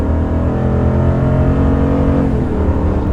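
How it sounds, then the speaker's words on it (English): A RAM 2500 Tradesman pickup truck accelerates from 35 to 40 mph, its engine close and loud with a steady, rising drone that holds throughout without a break. "here's a quick acceleration from 40 miles an hour"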